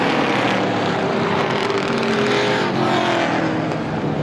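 Race cars roar around the oval at Star Speedway, a loud, continuous blend of engines with rising and falling passes, close and unbroken throughout.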